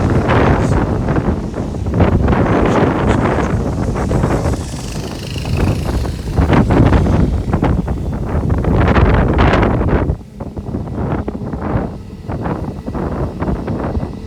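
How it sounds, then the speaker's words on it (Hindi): Strong wind roars and buffets the microphone continuously at Delhi Airport, with a heavy, rushing wash of pouring rain underneath. "हवा चलने लगा है, तेज बारिश हो रही है"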